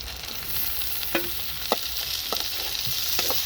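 Chicken head curry is stirred in a frying pan, a soft continuous sizzle broken by a handful of scattered scraping clicks from the spoon, close and fairly quiet with no voices.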